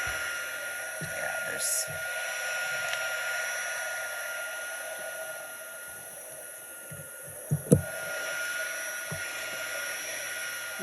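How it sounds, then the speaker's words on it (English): A heat tool blows a steady whooshing hiss over embossing powder for card making, constant and close, with a brief voice and a couple of small knocks partway through. "I'm going to turn on my heat tool"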